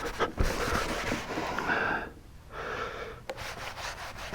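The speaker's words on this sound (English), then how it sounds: "Get in the grooves and wipe it off" Cloth wipes wax onto a wooden mantel and into its grooves, producing close, dry rubbing strokes in uneven bursts with a brief pause midway.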